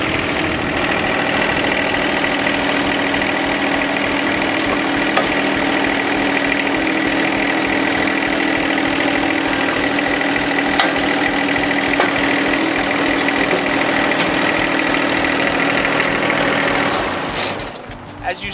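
A John Deere 1025 compact tractor engine runs steadily nearby during front loader installation, a constant idling drone that holds for the full stretch before dropping off at the end.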